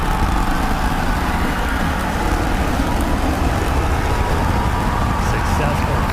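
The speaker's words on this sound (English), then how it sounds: "trying to light 2 of these Raptor sea level engines" SpaceX Starship Raptor sea-level engines fire during a landing burn, a continuous dense rumbling roar heard from a distance, steady and broadband throughout without breaks.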